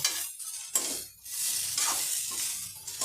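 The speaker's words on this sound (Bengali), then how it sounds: "ঢাকাটা উঠিয়ে মাঝে মধ্যে এইভাবে নেড়ে দিব" Gime shak greens frying in a pan as they are stirred, bursts of loud sizzling that rise and fall with each stir, broken by short quiet gaps and a faint clink of the utensil.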